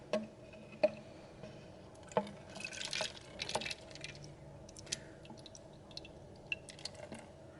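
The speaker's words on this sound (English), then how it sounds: "So I'm going to transfer it to this bottle." Water is poured from a container into a bottle in a quiet room. Faint soft splashes and drips come at uneven moments, with small clicks and a brief louder trickle near the middle.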